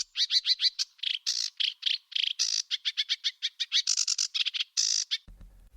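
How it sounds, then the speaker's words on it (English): A garden bird sings a rapid, intricate song of varied chirps, trills and whistles, fast and continuous for about five seconds, close and clear without other sounds. "Some bird species have songs with very complex patterns indeed, such as this."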